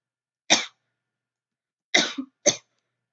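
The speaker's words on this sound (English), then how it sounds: "I've been coughing a lot lately." Three separate coughs, one then a pause before a quick pair, sharp and close, with silence between them in a quiet room.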